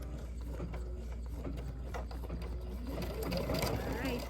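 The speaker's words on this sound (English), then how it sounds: "I got my pink threaded in there and let's stitch that out" An embroidery machine stitching out pink thread on an Easter tiered-tray project, a steady loud mechanical whir and rapid needle clatter running continuously throughout.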